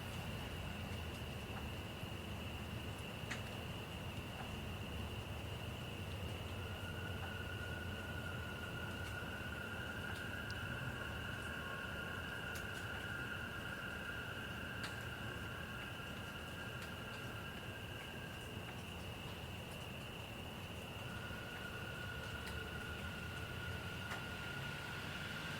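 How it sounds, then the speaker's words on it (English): Frogs calling at night heard from a porch, a steady faint high chorus of trills and a sustained tonal drone over soft low background noise, distant and continuous with no talking. "listening to the frogs"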